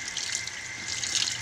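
Tap water runs steadily into a sink while cooking pakbet, a continuous hissing splash that stays fairly even throughout, close by with no talking.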